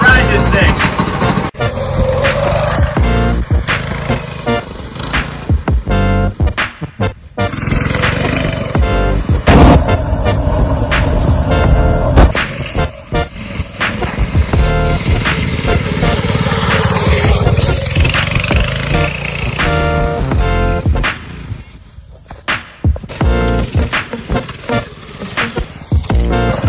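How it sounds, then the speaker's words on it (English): A replacement go-kart engine running during a ride outdoors, loud and close, its tone rising and falling as the throttle changes, with a few brief drops in level. "We got a couple of hours of fun out of this new kart motor. It runs great."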